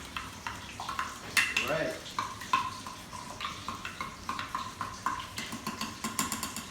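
Thick brown sauce stirred in a bowl with a utensil, repeated close clinks and scrapes against the sides in an uneven rhythm, as someone speaks briefly.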